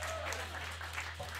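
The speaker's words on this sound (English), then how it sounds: "Clap for Taylor's father" At a hardcore punk concert, the crowd claps in a brief, dense burst over a low electrical hum.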